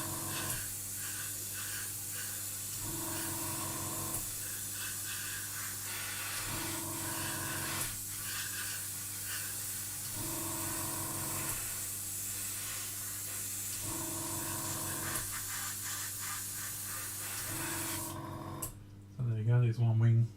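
Acrylic paint is sprayed onto a model aircraft wing from an airbrush, giving a soft continuous hiss in repeated short passes, quiet and close, ending with a brief clatter.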